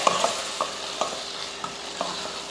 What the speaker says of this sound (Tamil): புழிஞ்சிட்டு மொத்தமாக நல்லா வதக்கி விடுவோம்